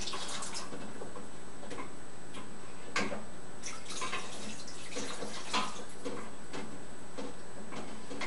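Two cups of water poured into a very thick tomato sauce base while it is stirred, giving a steady, close wet sloshing with scattered small clicks and splashes throughout, no talking.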